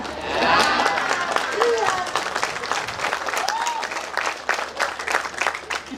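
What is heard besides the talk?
audience applause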